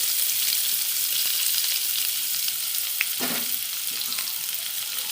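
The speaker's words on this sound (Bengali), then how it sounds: "পেঁয়াজ কুচিটা হালকা ব্রাউন কালার করে নেব" Chopped onion sizzles and crackles steadily in a hot pan, with a brief scrape of stirring partway through.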